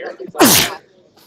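One loud, close sneeze cuts through soft talk, a quick intake followed by a forceful burst that fades into quiet, during live coverage of a Spartan Ultra 24-hour race.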